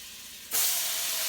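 Onions hit a hot pan for garlic soup, bursting into a sudden loud sizzling hiss that holds steady close by after a quiet moment.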